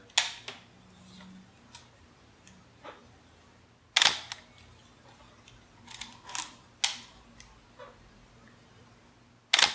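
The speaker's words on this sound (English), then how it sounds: "since the mirror mechanism on SLR has to go up and down, you just get a little bit of a louder noise" An SLR camera fires its shutter a few times, each shot a sharp mechanical clack of the mirror flipping, with small clicks and handling noises in between.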